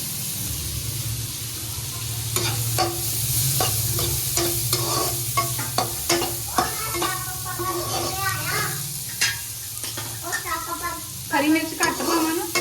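Onions fry for bread bhaji in a pan, a steady sizzle running under repeated clinks and scrapes of a stirring spoon, close and fairly loud, with voices talking over it.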